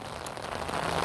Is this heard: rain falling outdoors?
yes